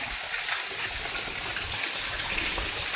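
Rainwater flows steadily across a flooded rooftop terrace during heavy rain, a continuous close rushing wash with no breaks and no voices.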